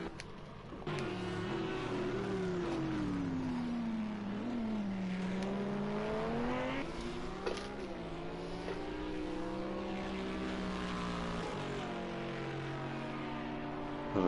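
A racing car engine in a video game at Circuit of the Americas roars continuously, its pitch rising and falling through gear changes and revs, loud and close throughout.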